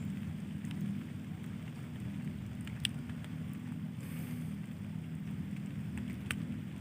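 Steady rain falls over a rice paddy beside a busy main road near the mountains, a dense even hiss with low rumble underneath and a couple of brief sharp ticks, no voices.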